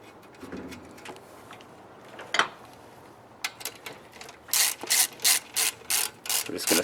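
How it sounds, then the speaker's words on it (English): Ratchet tightening the positive battery cable on a 2006 Subaru Forester with an EJ25 boxer engine, scattered clicks at first, then a rapid run of loud, close ratcheting bursts in a steady rhythm, with no speech. "We're just going to snug up this positive cable."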